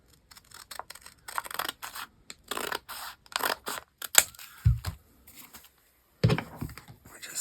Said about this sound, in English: And I think we'll cut all this off